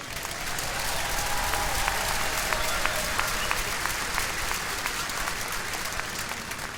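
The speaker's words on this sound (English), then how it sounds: "Let's give another round of applause to our orchestra." A commencement audience at a university ceremony applauds the orchestra, a steady, dense wash of clapping that holds evenly from start to finish with no voices above it.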